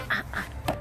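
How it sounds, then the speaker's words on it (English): A single duck quacking up close, three short nasal quacks in quick succession, loud and clear over a low background hum. "It's the duck."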